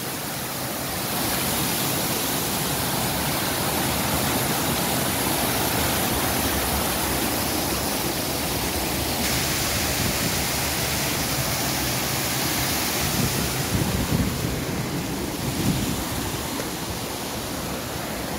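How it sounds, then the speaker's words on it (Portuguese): Water pours steadily down the spillway of the Caiana dam on the Seridó river, a continuous broadband roar that stays loud and unbroken throughout, with no voices over it. "Barragem da Caiana, descendo água aqui, ó"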